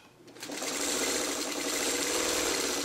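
After a brief start, a sewing machine hums steadily and close up as it stitches quilt blocks together, running alone.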